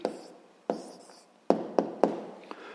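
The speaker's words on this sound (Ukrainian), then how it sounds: "записуємо відповідь, пишемо відповідь" A pen writes an answer on paper in a math and physics lesson, tapping and scratching in short close strokes, with several distinct taps spaced over a couple of seconds.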